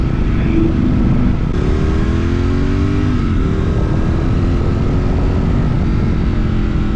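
A light, quick-handling motorcycle rides a twisting mountain road near Tail of the Dragon, its engine droning steadily and loudly up close with shifting pitch as it revs, mixed with heavy wind rush and no talk.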